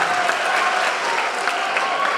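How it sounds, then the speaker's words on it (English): Steady, full crowd applause greets the LaBelle High School debate team at a school debate event, a dense even patter of many hands clapping throughout. "Give them a round of applause."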